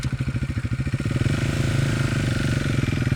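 Husqvarna Svartpilen 401 motorcycle with a 373 cc single-cylinder engine, running close by with a steady, pulsing throb that settles into an even idle-like drone, with no talk over it.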